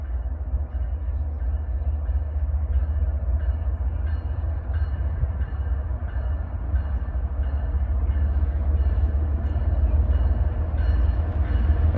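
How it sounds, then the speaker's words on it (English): A CSX freight trash train passes with a steady, loud, low rumble of rolling wagons that holds for the whole stretch, without any talk. "Oh, it's the trash train."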